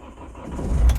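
A Mahindra XUV with a starting problem cranks and its engine catches, building to a louder low rumble toward the end of one brief, close burst.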